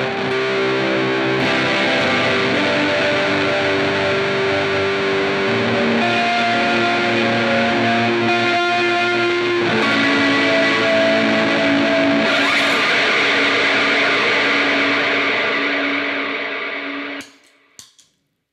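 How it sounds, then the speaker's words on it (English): Ambient guitar pedalboard pushing heavy reverb into gain, producing a huge, angry, distorted wash of sustained layered tones that swells steadily for about seventeen seconds before cutting off abruptly at the end. "Sometimes I want this big, like, angry, distorted wash under other things."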